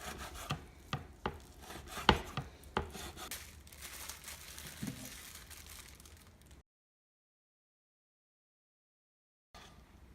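Knife chopping ingredients for a Cambodian soup, a few sharp irregular cuts on a board followed by softer rubbing and scraping, close and fairly quiet, then silence before a faint return.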